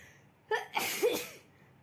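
A single sharp human sneeze, with a quick intake of breath and then an explosive burst, fairly close and alone against quiet room noise.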